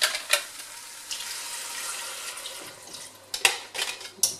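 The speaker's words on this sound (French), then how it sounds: "Là, on va mouiller au bouillon." Homemade broth is poured into a chicken curry stew in a pot, making a soft continuous liquid splash with a few sharp clinks of utensils near the end, close and fairly quiet.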